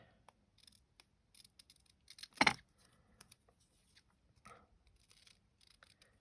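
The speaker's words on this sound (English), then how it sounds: "Now I can cut round the edge." Scissors cut around the edge of a die-cut gnome card, a quiet crafting scene with a few soft snips and one sharp, louder cut in the middle, plus light paper rustling and handling noises.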